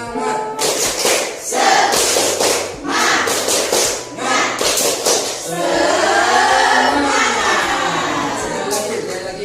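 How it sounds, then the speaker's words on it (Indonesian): A classroom of standing students performs the rhythmic 'tepuk semangat' spirit clap, with sharp group hand-claps in patterned bursts, loud and close, mixed with chanting voices. "Tepuk semangat."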